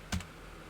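Single quick burst of computer keyboard keystrokes while typing a FIND formula in Excel, close and fairly quiet, alone without talk.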